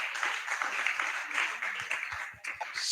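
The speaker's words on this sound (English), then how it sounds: "please let's clap for her." An audience at a skill acquisition talk applauds for Sister Anna, a steady patter of many hands clapping at moderate volume with a few faint voices underneath.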